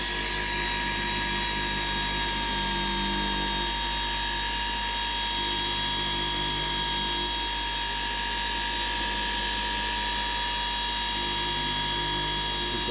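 A battery-powered machine, likely a polisher, works on a car headlight during restoration, giving off a steady high-pitched whine with a constant drone underneath, unbroken and fairly close.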